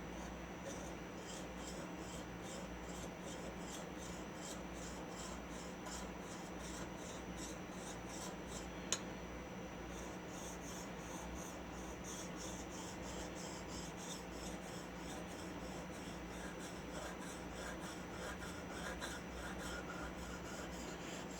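An antique 1921 Stanley #40 scrub plane blade with a slight hollow grind is rubbed back and forth on a sharpening stone, a steady, close rasping scrape that carries on without pause for the whole stretch, with no talking.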